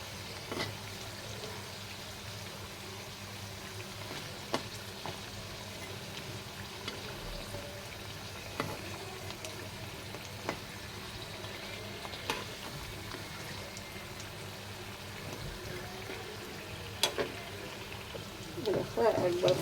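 Flour and potato snacks frying in a pan of oil, a low, soft bubbling sizzle with occasional small clicks and stirring taps, running steadily beneath someone talking throughout.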